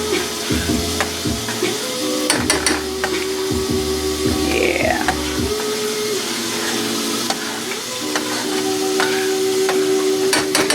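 Orange chicken sauce thickened with cornstarch sizzles and bubbles steadily in a pan into a glaze, with a few sharp clatters of a utensil stirring against the pan early on.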